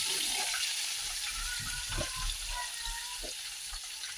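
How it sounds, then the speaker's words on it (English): Fresh onions fry in a pan for Nigerian jollof rice, giving a steady, even sizzling hiss with a few faint low knocks. "I'll fry my onion."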